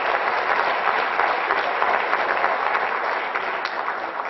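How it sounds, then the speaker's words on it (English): Audience applause for third graders at an elementary school event, with steady, dense clapping from many hands sustained throughout and slightly tapering at the end. "Let's give them a nice round of applause."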